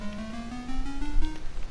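Minecraft note block on an emerald block giving a bright, buzzy chiptune-like tone that slides slowly upward in pitch, short and fairly close, alone without talk.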